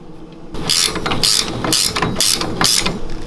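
A hand ratchet tightens a nut while installing a lift kit on a 670cc Predator Yerf Dog Spiderbox. It gives five loud, evenly spaced bursts of rapid clicking, close up, with no talking.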